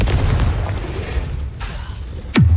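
Confringo explosive spell from Hogwarts Legacy: rumbling blasts through most of the clip, then a sharp, loud explosion near the end, with a fiery whoosh falling into a deep boom.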